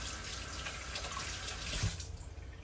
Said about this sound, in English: Let me rinse this off my hands.